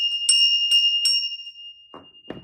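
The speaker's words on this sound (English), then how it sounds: "I'm gonna go ahead and ring the bell." A small handheld bell rings three times in quick succession with a bright, sustained ringing tone. A couple of duller knocks follow near the end.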